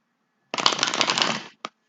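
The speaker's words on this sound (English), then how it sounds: "they want me to shuffle again." Tarot cards are riffle-shuffled in one dense, crackling burst lasting about a second, followed by a brief soft tap as the deck settles, close and clear with no talking.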